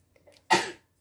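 A child's single sharp sneeze indoors, a short loud burst after a faint intake of breath, then quiet.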